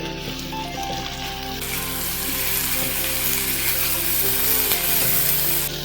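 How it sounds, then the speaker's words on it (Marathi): Diced potatoes for aloo chilli sauté in hot oil, giving a steady, close sizzle and crackle that builds slightly and holds throughout, with no talk. "तर आता तेल गरम झालेलं हो, आहे एक दोन मिनटं परतून घ्यायचे"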